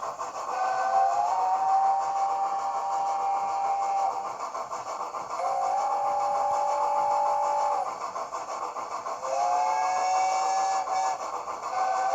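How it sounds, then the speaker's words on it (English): Three long whistle blasts from a Hornby Class P2 'Prince of Wales' model steam locomotive, evenly spaced with brief pauses, over a steady mechanical hum. "then function 3 is a random selection of long whistles"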